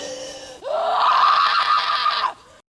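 A woman in a horror film lets out a long, sustained scream, loud and strained with a guttural edge, rising abruptly and holding for nearly two seconds before cutting off.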